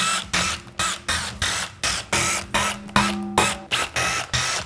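Rapid repeated whirring bursts of an impact or power tool spinning off the half-inch transmission pan bolts on a 4L60E, about a dozen short runs in quick succession, close and loud with no talk.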